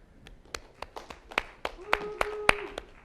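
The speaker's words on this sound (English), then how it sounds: "I figured this is the most applause I'm going to get all day" Sparse, scattered claps from a tech conference audience at Tech·Ed North America 2011, individual sharp hand claps spaced irregularly, fairly close, with a faint voice murmuring partway through.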